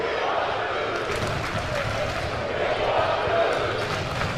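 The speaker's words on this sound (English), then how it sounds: "The whole gym chanting, "We want Deuce" in unison." A gym crowd at a high school basketball game in Lewes, Delaware chants in unison. The roar is loud and continuous and fills the room, with a voice talking over it.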